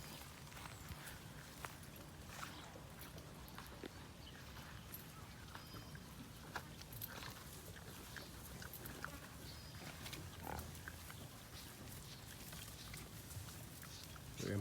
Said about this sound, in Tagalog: malalaki na yung mga iniwan nating biik dito